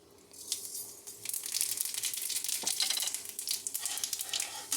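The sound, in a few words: fennel seeds sizzling in hot oil in a pan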